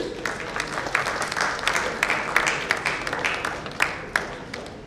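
An audience claps continuously for award winners at a ceremony, a dense wash of applause with sharper individual claps standing out, heard from within a hall.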